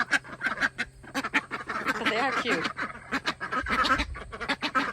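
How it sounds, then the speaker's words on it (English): Ducks and hybrid fowl at a New York homestead quack and honk in a close, busy chorus of repeated calls, with a person speaking briefly among them. "Ducks, I believe, are very labor intensive and they're very messy."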